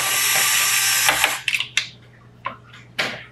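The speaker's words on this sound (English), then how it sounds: "we're going to take our screwdriver and we're going to take off these screws" A powered screwdriver backs case screws out of a Sharp MX-407FU1 fuser unit, giving a loud buzzing ratchet whir that stops abruptly, followed by several sharp clicks and taps as parts are handled.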